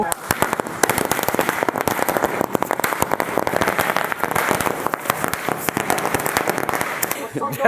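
A long, rapid string of firecrackers pops and crackles loudly and continuously at a Ganesh Chaturthi celebration, with people's voices faintly underneath.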